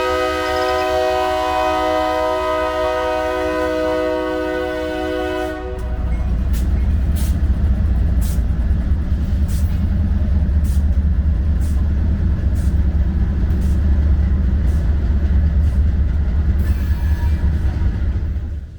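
A BNSF freight train hauling ADM gluten feed, led by three locomotives, blasts a long horn close by, then rumbles heavily past with steady rolling roar and rhythmic rail clacks, no talk.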